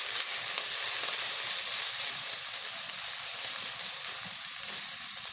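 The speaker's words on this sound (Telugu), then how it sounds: "అల్లం వెల్లుల్లి పేస్ట్ని పచ్చి వాసన పోయేంత వరకు బాగా వేయించుకుందాం" Ginger garlic paste fries in a pan over high heat, giving a steady, loud broadband sizzle that hisses evenly throughout with no talking.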